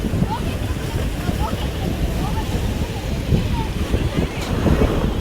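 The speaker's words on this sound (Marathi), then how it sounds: "समुद्र किनारा" Ocean waves roll onto a Goa beach at sunset in a steady, close surf roar, with wind buffeting the microphone throughout.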